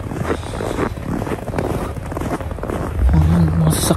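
Strong wind blowing through a snowstorm in Smoky Lake, Alberta, a loud continuous roar buffeting the microphone and surging louder toward the end.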